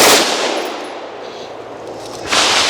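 A full-auto rifle fitted with a Hu-Du brake and suppressor system fires a loud, close burst at the start, falls quiet, then fires a second burst near the end.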